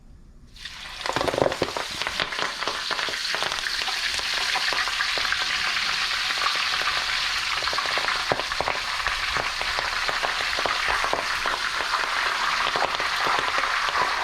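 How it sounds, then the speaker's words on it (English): Basil leaves dropped into oil at around 330 degrees hiss into a loud, bright burst of frying crackle that holds steady and dense for over ten seconds, close up, with no talking. "And now we're going to fry the basil."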